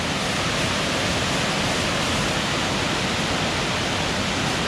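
Water pours down a series of cascades inside a cave on Vancouver Island with a loud, steady, unbroken rush, and no voices are heard.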